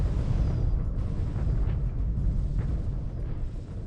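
Missile launches and explosions in a space battle from the strategy game Homeworld, with the Vaygr fleet, forming a dense, continuous low rumble of blasts and booms throughout.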